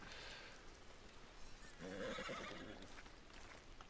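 A horse in the video game Red Dead Online lets out a single whinny midway, quavering and fairly close, over quiet game ambience with faint hoof sounds.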